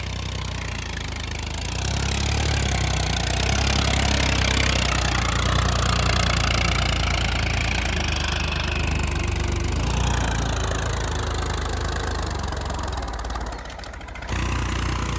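A tractor engine pulling a C-type cultivator through dry soil drones loud and steady at close range, with a brief dip near the end.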